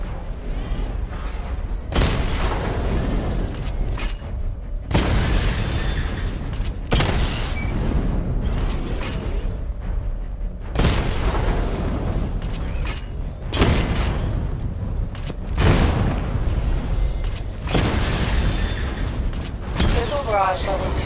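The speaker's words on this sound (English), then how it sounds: "Charge the missile barrage to level 2 to destroy up to 4 targets at once." A missile barrage charges and fires in Batman Arkham Knight: loud repeated booming bursts with mechanical whirs and clanks, each volley separated by short pauses, dense and close throughout.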